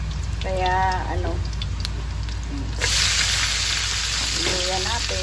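Ginger sizzles and fries in a pan for chicken tinola, a steady close hiss that grows brighter and louder partway through, with faint bits of voice over it.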